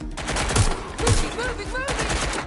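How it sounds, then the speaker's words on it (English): Gunfire in Watch Dogs: Legion: rapid volleys of shots, loud and close, under brief voice fragments from characters. "Someone's shooting."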